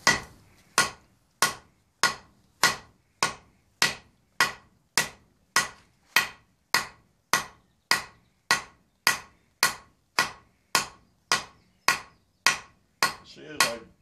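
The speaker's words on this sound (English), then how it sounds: "I'm drawing it out a little bit at a time with the edge of my hammer and the edge of the anvil." At Batsto, New Jersey, a blacksmith draws out steel with the edge of a hammer on the edge of an anvil, about twenty evenly spaced, sharp ringing blows struck close by in a steady rhythm.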